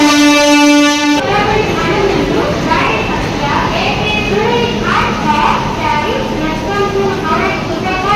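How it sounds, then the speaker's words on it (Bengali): The 18447 Hirakhand Express pulls into platform 1 at Bhubaneswar station, a long horn blast giving way to the loud rumble and clatter of coaches rolling in, with people talking over it. "1 নম্বর প্ল্যাটফর্মে জাস্ট ট্রেন ঢুকলো।"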